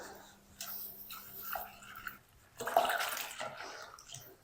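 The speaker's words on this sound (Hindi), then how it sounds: "बाकी जो कप बच चुका है पानी का वो भी हम इसमें शामिल कर" Water from a cup is poured into a semolina and gram flour batter, a soft splashing pour over a couple of seconds after some faint stirring sounds, quiet and close.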